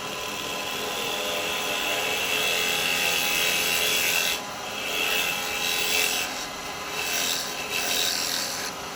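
A carbide woodturning tool cuts wet wood on a spinning lathe while shaping a miniature hat, producing a continuous close hiss and rasp that briefly eases and surges in the latter half.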